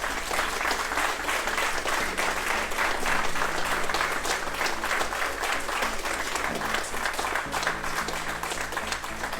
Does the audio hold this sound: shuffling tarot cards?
no